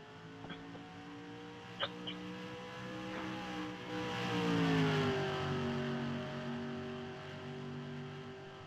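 Race cars, including numbers 79 and 30, drone along a track, engine tones holding steady and then bending downward as they pass, moderately distant, with faint clicks over the steady roar.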